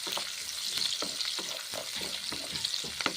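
Onions fry in a pan and are stirred for a bottle gourd (lau ghonto) dish, giving a loud, continuous sizzle with repeated scraping strokes of the spoon close by.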